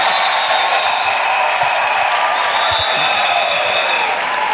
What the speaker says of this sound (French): Offrons acclamation à Jésus-Christ.